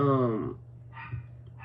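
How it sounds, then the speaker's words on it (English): Dogs bark a few times nearby, one long tonal bark followed by two shorter, quieter yips over a low steady hum. "those are my dogs barking, by the way"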